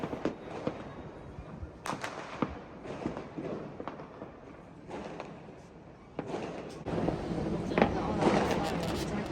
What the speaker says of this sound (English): You can hear all the fireworks going off everywhere.